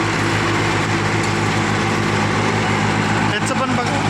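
A Swaraj tractor creeps slowly forward, its engine giving a loud, steady, low drone with a rough broadband rumble that stays constant throughout, dipping briefly near the end.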